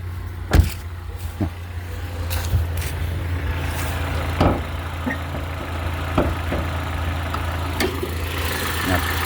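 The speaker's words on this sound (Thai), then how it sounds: "สตาร์ทแล้วนะครับนี่ครับ เราดูห้องเครื่อง เบามากครับ" A 2005 Honda Civic engine idles quietly and steadily in the background, with occasional clicks and knocks around the car and someone talking over it.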